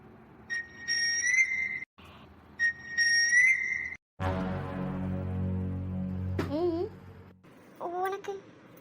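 A boy whistles two sustained, high-pitched tonal phrases, then other vocal sounds and a voice follow, with short bursts of sound near the end.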